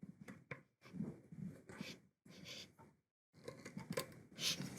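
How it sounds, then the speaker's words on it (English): Short snips of vacuum tubing being cut into a 2–3 inch piece, several crisp cutting clicks and rustles close to the microphone, with no talking. "I then cut another piece of tubing about 2 or 3 inches long."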